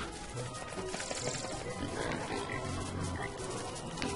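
Pigs grunting and squealing as they fight other pigs in the video game Don't Starve, a steady, dense scuffle of animal noises over a constant game background, with no talking.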